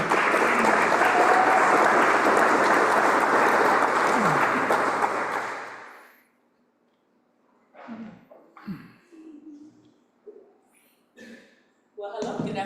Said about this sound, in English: a big round of applause for Virginia Grant